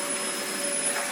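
A vacuum cleaner runs steadily in a house under drywall renovation, a loud, continuous close-up whine with a broad airy rush and no pauses.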